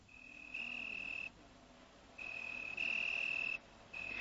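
Faint, high-pitched insect trills sound in long, steady bursts that start and stop, over a quiet, hushed nighttime background.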